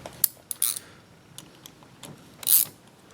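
A nut is tightened with a ratchet during repair of a Denso starter solenoid. Short metallic ratchet clicks and clinks come close and sparse, with a couple of louder bursts.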